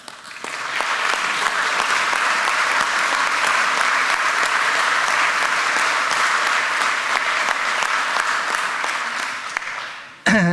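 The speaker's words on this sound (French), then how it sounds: "je voudrais que vous puissiez juste applaudir la personne sans qui on ne pourrait pas être là aujourd'hui" A crowd at a company's 30th anniversary celebration breaks into loud, sustained applause that holds dense and even for about ten seconds before fading quickly at the end.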